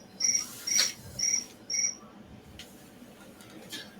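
Alarm tone imitating a cricket: four short, bright chirps in quick succession, fairly close and clear, followed by quiet room tone.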